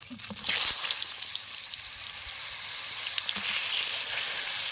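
Peeled pointed gourd (potol) coated in salt and turmeric hits hot oil with a loud burst of crackling, then settles into a dense, even sizzle close by, with a light clack of stirring and no voices.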